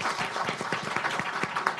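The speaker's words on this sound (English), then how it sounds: "Please give them a round of applause" Short burst of applause from a crowd, dense, even clapping throughout.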